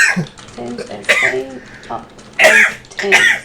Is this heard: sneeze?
yes